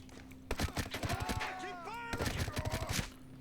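Rapid bursts of shotgun fire crack out in the Ghost Recon Breakpoint video game, several sharp blasts in quick clusters with a brief pause between volleys, mixed with tonal in-game effects.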